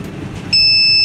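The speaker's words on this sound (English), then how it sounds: "And you hear the beep 3 times." A fully automatic cup sealer machine gives a single loud, sharp electronic beep that starts halfway through and holds steadily to the end, over faint background hum.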